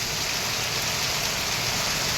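Heavy monsoon rain pours steadily in a broad, even wash of hiss without a break, with no voices over it.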